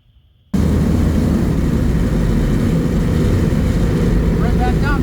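A car engine with a Holley Sniper throttle setup and a sticking throttle roars in abruptly from near silence and holds a loud, steady high drone, with a voice faintly audible near the end.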